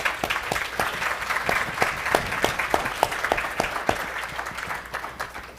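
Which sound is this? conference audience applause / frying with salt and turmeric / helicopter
conference audience applause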